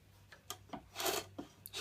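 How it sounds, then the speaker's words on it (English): Quick back-and-forth rasping strokes of sandpaper on the wooden rosette edge of a classical guitar, close and fairly quiet, with a faint low hum underneath. "You can see it's sanding this edge, so it's cutting"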